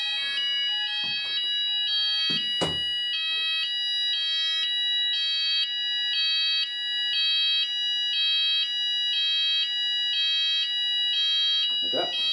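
A loud Apollo XPander electronic fire alarm, sounding a pre-alarm during a system test, repeats a stepped, cycling multi-tone pattern throughout, with a few brief knocks and rustles near the start and end.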